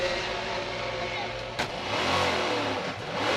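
Dodge Viper race car at an SCCA sports car race starting up and pulling away down the pit lane, a loud steady engine roar with a brief burst as it gets going, heard under race commentary.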